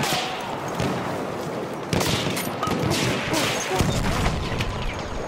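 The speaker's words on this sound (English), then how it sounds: "Enemy machine gun over there!" Battlefield 1 combat in the Argonne: a dense, continuous crackle of gunfire with sharp individual shots and heavier cracks layered over a noisy battlefield backdrop.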